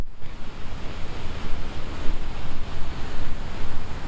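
Broad, loud rushing of a river waterfall in Glen Etive, a continuous roaring wash of water with gusty surges, heard up close and alone.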